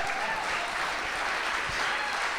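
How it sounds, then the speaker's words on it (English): Sustained audience applause fills the room for the whole stretch, dense and steady clapping with no break, at a public conversation event on Shakespeare. "May we have a round of applause for this beautiful man"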